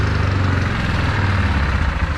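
The engine of a Yamaha Kodiak 400 ATV runs loud and close, a steady throbbing drone with a slight rise in revs and no voices over it.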